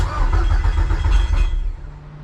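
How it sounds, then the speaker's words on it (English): A Toyota MR-S with a swapped big-turbo Audi 1.8T engine cranks and catches with a loud, rough low rumble, then settles and fades toward a quieter idle. "Let's see if the car starts and what the fuel pressure is going to be."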